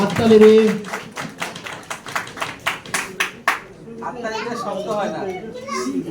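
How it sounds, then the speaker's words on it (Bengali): An audience applauds a fifth-place team at an award ceremony with a run of sharp, distinct claps for about three seconds, after which voices and chatter take over. "হাততালি দিন।"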